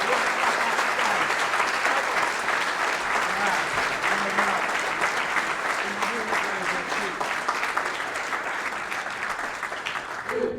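An audience at the Merrimack Valley Chamber of Commerce annual dinner applauds the governor with steady, close, full-room clapping that holds throughout and tapers slightly toward the end, with faint voices mixed in.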